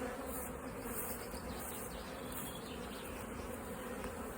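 Honey bees buzz and take to the air, a dense, steady droning hum close by with no voices.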